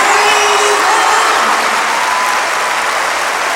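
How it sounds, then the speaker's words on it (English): Loud, sustained crowd applause at the 1994 women's gymnastics World Team Trials after a floor routine, a dense wash of clapping and cheering that holds steady and eases slightly toward the end. "Very enthusiastic response from this crowd."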